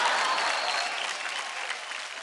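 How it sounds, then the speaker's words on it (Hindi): A studio audience at a dance competition TV show breaks into loud, sustained applause, dense clapping that gradually eases off. "जोर से तालियां।"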